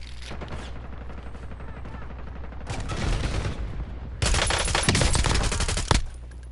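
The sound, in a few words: gunfire in Call of Duty Black Ops 6 Warzone video game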